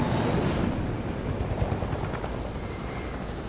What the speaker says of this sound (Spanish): gracias al helicóptero